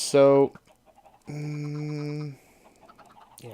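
Two short, tonal clucking calls from a video game chicken, each alone and clear, separated by a quiet pause with faint clicks.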